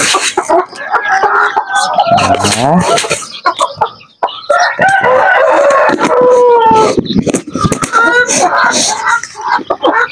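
Aseel chickens in a backyard, with loud, busy clucking and crowing calls from several birds close by, overlapping almost continuously and briefly dropping out midway.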